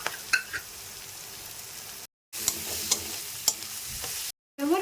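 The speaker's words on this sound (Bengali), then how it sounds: "এবার আদা রসুন বাটাটা দিয়ে দিচ্ছি।" Ginger-garlic paste frying in hot mustard oil with onion and chillies in a wok, a close sizzle under repeated scraping stirs and sharp clacks of a spatula, with two short silent breaks.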